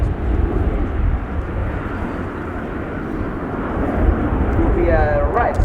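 Italian Air Force Frecce Tricolori jet formation flying overhead during an air display at RIAT: a loud, sustained broadband roar throughout, with a rising engine whine swelling near the end.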